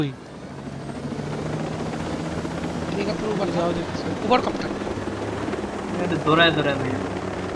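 Helicopter in the video game Ghost Recon Breakpoint, a steady low rotor drone running throughout under near-continuous talking.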